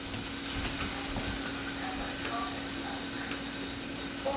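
Teriyaki food fries in a pan, giving a steady, fairly quiet sizzle that holds evenly throughout with a constant tone, and nobody speaks.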